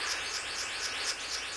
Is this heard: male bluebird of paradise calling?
yes